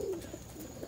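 An almond pigeon coos once, close and fairly clear, a brief low throaty note at the start over faint background noise, with no talking.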